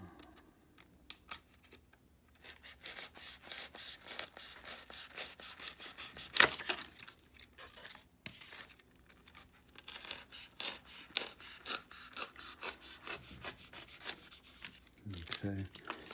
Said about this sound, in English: So I'm just going to go ahead and rough cut this.